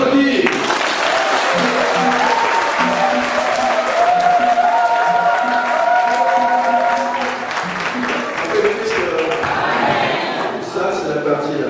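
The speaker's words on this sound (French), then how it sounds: "Vous avez entendu, on applaudit." A wedding congregation applauds during a church nuptial blessing, with continuous clapping mixed with crowd murmur and voices, while a sustained musical tone rings underneath before the sound thins out near the end.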